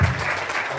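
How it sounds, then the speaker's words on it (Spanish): Audience applause welcoming a singer onstage at a talent show, a brief burst of dense clapping heard at close range, steady for its short span. "recibimos con un fuerte aplauso a Fernanda Erlis"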